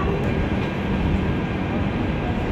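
Puri-Howrah Shatabdi Express pulling out of the platform at Puri, a steady loud low rumble of rolling wagons filling the whole stretch without let-up.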